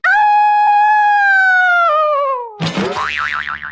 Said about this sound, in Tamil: என்னடா சவுண்ட் அது? வாவ், என்னோட நாய்க்குட்டி தான்.